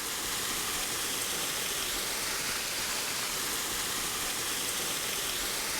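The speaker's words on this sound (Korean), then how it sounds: "여기 계곡의 물소리만 들어도 너무 시원한데요?" A mountain valley stream rushes steadily outdoors, a dense, even wash of flowing water heard close and continuous with no voices.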